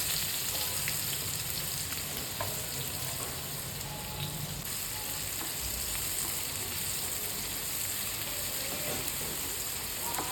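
Chopped onion and ginger-garlic paste frying in hot oil with green chillies for potato bhaji, a continuous dense sizzle with occasional light stirring taps and no voices.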